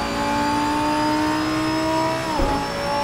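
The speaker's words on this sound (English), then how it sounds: "Hard on the gas." A car engine in a racing video game holds a steady high, droning pitch under hard throttle, then briefly dips and shifts near the end; no talk is heard.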